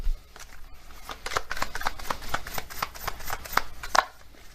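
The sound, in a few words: shuffling oracle cards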